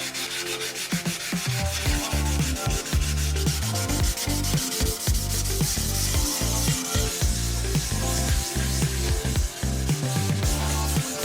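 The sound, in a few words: light sanding of clear coat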